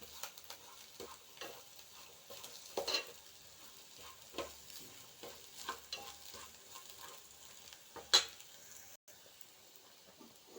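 Spices with turmeric crackle and sizzle in hot oil while being stirred, with intermittent scraping and clatters of a utensil against the pan, while cooking egg curry.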